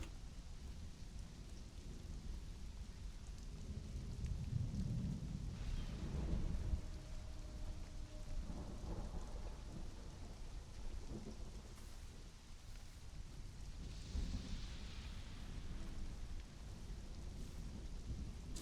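Steady rain with rolling thunder in the Conan survival game, a broad constant wash of downpour with deep rumbles swelling mid-clip, no voices.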